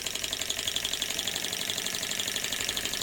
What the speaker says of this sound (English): The Stirling engine picks up speed